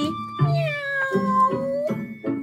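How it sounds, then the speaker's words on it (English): A cat meows five times in a steady sequence of drawn-out, tonal calls, close and clear, with brief gaps between each cry. "cat went fiddle-I-fee, meow"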